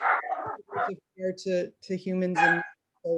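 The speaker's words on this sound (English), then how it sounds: "Please excuse my yappy dog." Small dog yapping in a home setting, several sharp high barks and yips cutting across a woman's speech, close and fairly loud.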